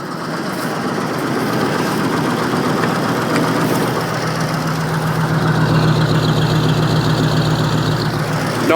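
Caterpillar 3208 non-turbo diesel idling after a cold start, with an exhaust leak: a steady, close, loud low rumble with rough knocking texture, running continuously without talk.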